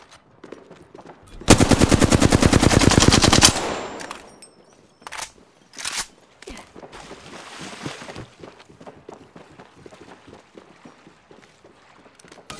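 Apex Legends match gunfire: a loud, rapid automatic burst of about two seconds, then scattered single shots, impacts and movement sounds that trail off into quieter game noise.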